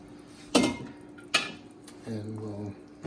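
Ingredients for a tomato sauce go into a cooking pot in a home kitchen: two sharp metallic clanks a moment apart, then a short low, tonal rumble, fairly close and with no talking.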